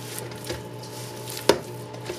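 Raw ground beef is mixed by hand in a kitchen, with soft squishing and a few faint wet slaps, one sharper smack standing out midway over a steady low hum, no talking.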